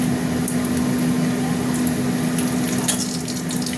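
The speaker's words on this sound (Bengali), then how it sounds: "দিয়ে দিলাম দুটো তেজপাতা আর দুটো শুকনো লঙ্কা দেবো।" Two bay leaves and two dried red chillies sizzle and fry in hot oil, sweetened with a little sugar, in a pan for a potato, pointed gourd and prawn curry. A soft, even crackle runs throughout over a steady background hum.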